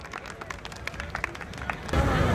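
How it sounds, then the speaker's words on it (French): Crowd applause at the fifth Festival Grillade in Bamako, a night event: a steady patter of many hands clapping for about two seconds, then a louder, denser surge of crowd noise. "On applaudit pour M. Ousmane Barry."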